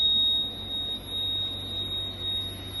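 A continuous high-pitched electronic buzzer tone from a wireless home automation alarm drones steadily over a low background hum.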